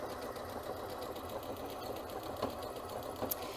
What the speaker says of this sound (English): I'm going to hit the lock key again, and it's going to finish and do a locking stitch for me